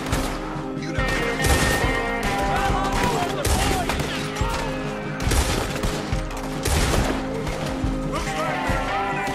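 Gunfire in the video game Red Dead Redemption 2, a loud, dense stream of overlapping shots and bursts filling the whole stretch, with game noise underneath.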